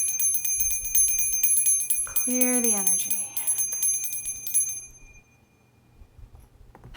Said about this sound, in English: I kind of like including my little bell in the